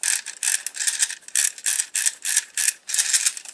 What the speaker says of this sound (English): Everybody knows you have to wind this wheel